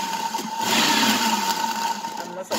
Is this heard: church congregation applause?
no